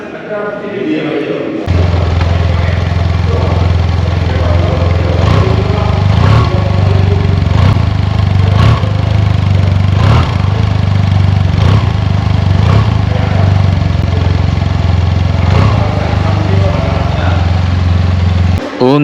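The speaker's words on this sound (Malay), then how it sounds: "kita on engine dia, kita dengar bunyi exhaust ya" SYM MaxSym 508 TL scooter engine starting up, then idling with a steady low exhaust rumble and occasional light throttle blips, close and loud, running continuously for the rest of the stretch.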